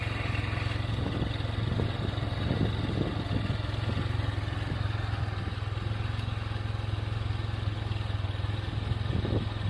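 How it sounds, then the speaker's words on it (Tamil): A motor vehicle climbs a road up Kalvarayan hill toward Anaivari waterfall after a restart, its engine droning steadily and close throughout with scattered rattles and clatter, no talking. "கொஞ்சம் மெதுவாக வண்டி ஸ்டார்ட் பண்ணி மறுபடியும் கிளம்பி வச்சுங்க"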